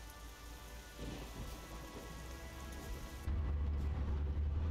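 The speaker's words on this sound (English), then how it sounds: "that storm's pretty close." Steady rain and a rumbling thunderstorm in the video game Euro Truck Simulator 2, continuous hiss of rain with a deep, loud thunder roll building near the end, no talking.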